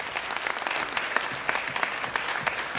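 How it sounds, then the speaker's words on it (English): Lively applause at a black-tie fundraising ball, a roomful of guests clapping with some sharper individual claps standing out over a steady, fairly close wash. "So give yourselves a big round of applause for that."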